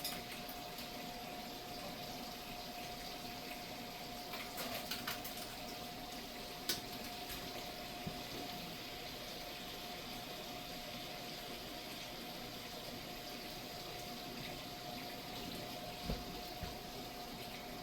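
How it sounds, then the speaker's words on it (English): Water runs through milking equipment during a rinse, making a faint, steady wash of flow with a low pump-like hum underneath and a few small knocks, with no voices. "Rinse."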